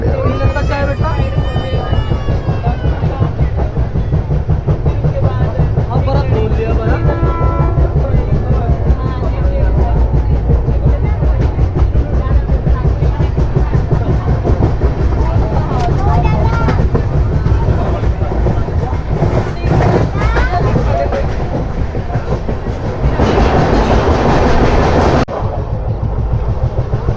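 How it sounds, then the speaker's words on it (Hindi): A Hemkunt Express passenger train rolls steadily toward a tunnel, with a loud, continuous rumble and rhythmic clickety-clack from the wheels on the rails. A voice talks over the noise and the roar rises near the end. "देखो सामने टनल भी दिख रही है और हमारी ट्रेन इसके अंदर जाएगी"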